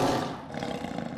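A tiger gives a loud, close roar that rumbles with growling texture through the whole moment, standing alone with no voices over it.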